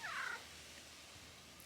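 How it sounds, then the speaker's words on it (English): A single short cat meow at the very start, sliding downward in pitch, followed by a quiet room. "He is a cat, but we don't hold that against him."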